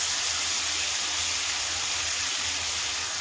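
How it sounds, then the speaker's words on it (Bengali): Diced potatoes sizzle in hot oil left over from frying prawns, a steady, even hiss of frying that holds constant throughout. "তিনটে আলু ডুমো করে রেখেছি, আলুটাও একটু ভেজে নিচ্ছি।"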